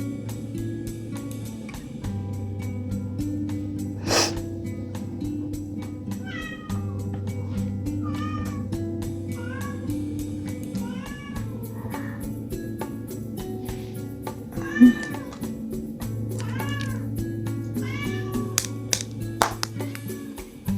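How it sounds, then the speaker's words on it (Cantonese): A cat outside meows repeatedly in short, rising calls spread across the whole stretch, heard alongside a low steady indoor hum and a few taps and knocks. "唔知大家聽唔聽到出面隻貓搵我？"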